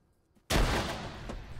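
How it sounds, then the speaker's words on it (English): A frag grenade detonates in the military shooter Arma 3: after near silence, one sudden, loud, close blast erupts, then trails off into a long rumbling decay. "I got a grenade. Frag it."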